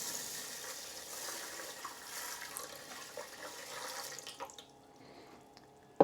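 Water poured into a Ninja Speedi pot for rice makes a soft, continuous splashing trickle for about four seconds, then stops, followed by a brief clack.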